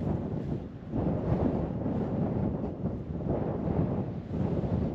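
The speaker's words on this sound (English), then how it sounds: "You can hear the wind." Wind blows across an exposed hilltop moor on Bleaklow Edge, a continuous low roaring rush that buffets the microphone in uneven gusts, loud and close with no voices.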